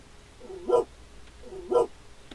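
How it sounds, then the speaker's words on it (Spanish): In the indie video game The Whitetail Incident, a dog gives two short, evenly spaced barks about a second apart, clear and moderately close over a quiet background hum. "Ay, mi perrito."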